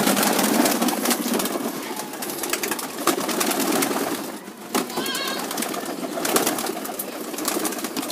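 Pigeons freed from their coop coo and call in a lively cluster, with soft wing flaps and rustling mixed in at close range.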